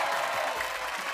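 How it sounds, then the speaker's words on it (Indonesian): Studio audience at a TV show breaking into applause, a short burst of dense, loud clapping from a crowd, sustained evenly throughout. "Tepuk tangannya mana nih teman-teman?"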